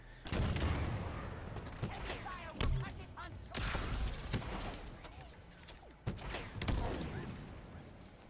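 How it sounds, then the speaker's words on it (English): Shock grenade blasts and surrounding gunfire in Halo Infinite multiplayer, a series of sharp booms and thuds at irregular intervals, with someone talking over the combat. "they happen to throw a perfect shock grenade into the doorway"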